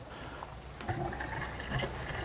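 An airlift pump in an aquaponics system bubbles water upward, giving soft, irregular gurgles and burps over a low watery hiss, close and fairly quiet.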